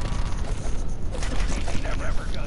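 Gunfire at zombies in a co-op zombie shooter, dense bursts of shots running steadily under constant overlapping talk, with no clear pauses between volleys.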